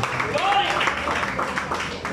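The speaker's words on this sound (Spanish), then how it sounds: "denle otro aplauso con vida a Cristo" Church congregation at an evangelical service applauds together, a sustained, fairly loud wash of clapping with voices mixed in and a brief sung or spoken tone rising through it.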